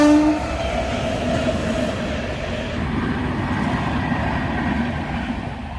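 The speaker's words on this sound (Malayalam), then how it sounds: "അടുത്ത ട്രെയിൻ പോകാൻ വേണ്ടി ക്രോസ് അടച്ചത്." A train passes a closed level crossing. A horn blast at the start gives way to a loud, continuous rumble and the rattle of wagons rolling by close at hand, with no voices.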